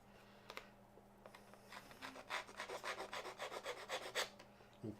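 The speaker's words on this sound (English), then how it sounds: "I roughed up those edges a little bit" Edges of a card blank for a vintage Christmas card being roughed up, a dry rhythmic rasping scrape repeated in quick strokes, close and fairly loud with no talking.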